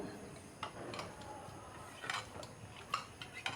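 Peas and potatoes being stirred with spices in water in a pot for ghugni, giving soft scattered clinks and scrapes of a utensil against cookware, fairly quiet and without talk.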